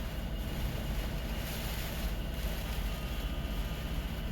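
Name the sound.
wind buffeting a parked truck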